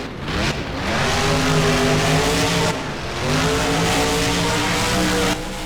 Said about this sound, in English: Swinging the truck around to go over one of the tabletops used in racing.